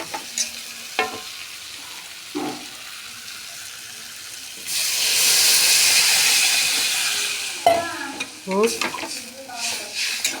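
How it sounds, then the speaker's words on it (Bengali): Curry of ridge gourd with boiled potatoes and water bubbling in a pan, with close stirring clinks and scrapes around a loud, steady hiss that swells for about three seconds midway. "দেখো আমার তরকারিটা ফুটছে"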